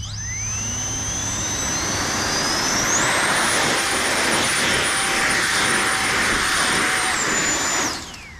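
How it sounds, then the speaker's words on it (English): A battery-powered RC jet dragster runs at full throttle, its loud, close turbine-like whine rising in pitch after a few seconds, holding steady at a high scream, then dropping away as it cuts off near the end. "the battery does not last long on this, so especially at full throttle"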